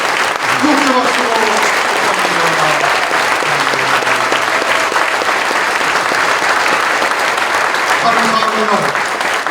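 Congregation applause at a Korean church service honouring elders, sustained dense clapping throughout, with voices talking and a short melodic murmur over the crowd.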